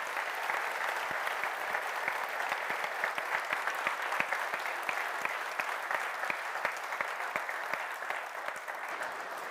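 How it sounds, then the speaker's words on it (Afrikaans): Applause for the ensemble at a Christmas carol service, a steady round of clapping from the congregation lasting several seconds, with sharp individual claps standing out against the dense wash. "Kom ons gee vir die ensemble 'n baie lekker hande klap."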